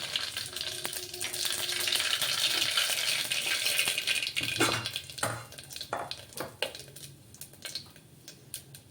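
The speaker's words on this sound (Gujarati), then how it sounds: "તો આપણે વઘાર કરીશું તેમાં રાઈ જીરું અને અજમો એડ કરીશું" Oil crackles and sizzles steadily as mustard, cumin and carom seeds pop in a hot pan, followed by a few clinks and stirring sounds.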